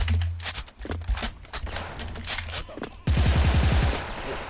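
Rapid bursts of gunfire in the Special Force first-person shooter game, loud and close, starting as scattered shots and breaking into a sustained automatic volley near the end, with a player's voice talking between them.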